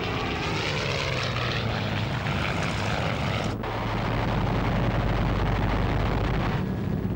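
Low-flying British propeller warplanes from the Second World War roar loudly and steadily in a heavy engine drone, with one brief dip partway through before the noise builds again, no voices present.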